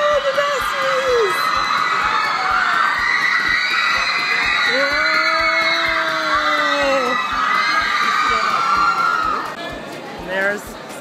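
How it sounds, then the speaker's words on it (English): A big crowd at a Singapore airport shouts and cheers in a loud, continuous roar, with some high-pitched screams rising above it and a person talking close by. "That is a big crowd of people."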